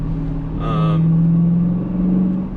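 A 2020 Dodge Challenger Scat Pack widebody with a manual gearbox hums with a steady, close, low engine drone that swells slightly over a couple of seconds.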